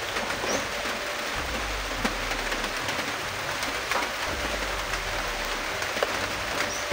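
Steady rain hisses over everything, with a low rumbling drone surging underneath twice and a few sharper drips or taps.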